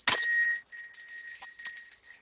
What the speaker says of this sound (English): All right, so one bell.